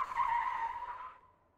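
Citroen Ami tires skidding in a handbrake turn, a single squealing scrub that holds steady for about a second then fades away, fairly faint with no one talking.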